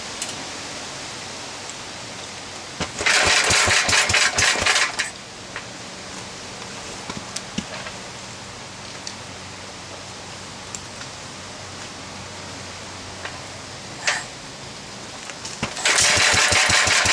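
A Gravely Model LI garden tractor engine is cranked in bursts of rapid mechanical chugging that cut off between attempts, with quieter stretches and a brief click in between, loud and close.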